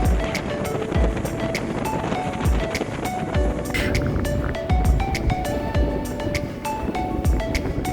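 A sailboat racing upwind at 7-8 knots in a strong southwesterly during Bohusracet 2022: steady loud wind and rushing water noise with repeated thuds and splashes of the hull meeting waves, close and continuous.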